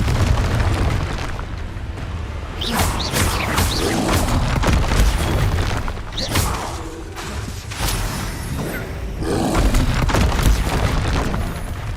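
Blasting-spell explosions from the Hogwarts Legacy video game, a run of loud booming bursts with whooshing tails, repeated across the stretch amid dense combat noise.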